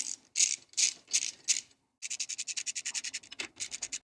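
Tightening fuel tank mounting bolts on a Suzuki DRZ400S with a ratchet: five slower clicking strokes, a short pause, then a fast, steady run of sharp ratcheting clicks, close up, with no talk.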